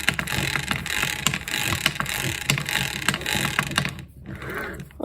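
A quad engine turned over freely by hand, giving a dense, irregular mechanical whirring and clicking that runs steadily, then drops off briefly near the end.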